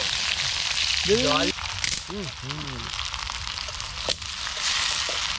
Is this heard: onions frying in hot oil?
yes